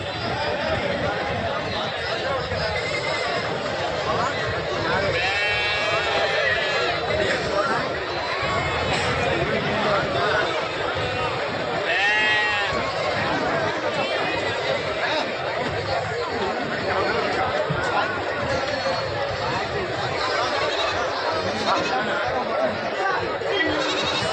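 Goats and sheep bleat amid a bustling crowd at a Tuesday livestock market at Pambu Kovil, Tenkasi district, with steady chatter and people talking throughout as animal calls rise intermittently.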